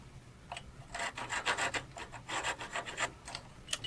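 A small Japanese crosscut saw cuts through turned wood on a lathe in a series of quick, rasping strokes, close and moderately quiet, in bursts with short pauses between.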